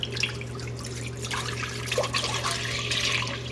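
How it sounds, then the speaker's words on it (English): A gallon of whole milk poured into a pot on a stovetop, a steady close liquid gush and splash lasting a few seconds over a low background hum. "we're going to pour our gallon of milk"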